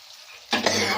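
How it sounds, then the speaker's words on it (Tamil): Fish sizzling as it fries in a hot pan on the stove in a home kitchen, a loud frying hiss that bursts in halfway through and holds steady without talk. "மீன் மக்கள் பொறிக்கிறேன்"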